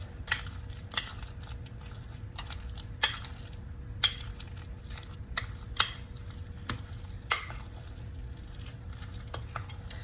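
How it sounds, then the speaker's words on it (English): Chocolate treat ingredients with chocolate chips and chocolate powder are mixed in a bowl, making quiet, close scraping and stirring with a scattering of sharp clicks and taps as the utensil strikes the bowl, with no talking. "So I'm just going to go ahead and mix this together."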